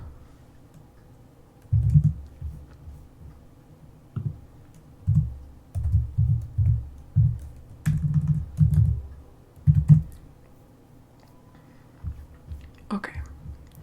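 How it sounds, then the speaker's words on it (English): Bursts of computer keyboard typing in a quiet room, short clustered runs of soft, close key taps separated by brief pauses. "Let me type this up."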